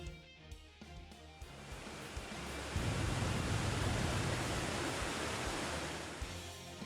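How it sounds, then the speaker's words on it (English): Coins pouring into a river like a waterfall in the game Fate/Grand Order: a few quick metallic clinks, then a swelling, dense rushing roar like falling water that holds steady and slowly eases. "Columbus's coins are pouring into the river like a waterfall."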